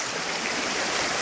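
A stream flows in a village in Konkan with a steady, broad rushing wash of water, close and continuous for a brief moment, with no voices.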